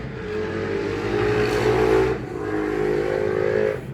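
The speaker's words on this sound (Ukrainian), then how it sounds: "Ну, це хтось на мотоциклі їде." A motorcycle drives past outdoors, its engine swelling to a loud peak at mid-pass and then easing into a steady drone as it moves on. No voices are heard.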